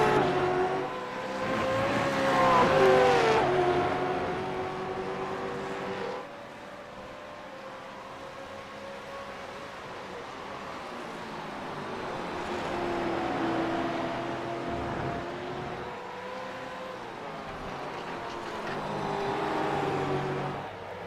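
Stock race cars in an ARS Push Rods & Popcorn heat race, including a Mustang, roar and accelerate down the straightaway, engines rising and falling in pitch as they pass, loud and continuous.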